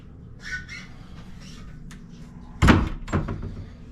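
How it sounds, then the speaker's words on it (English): Hotel room wardrobe doors swing open in a Las Vegas resort king room, a couple of soft creaks early on followed by a louder clatter and a second bump near the end, close by with no talk. "Got these doors here, which open into a nice wardrobe space."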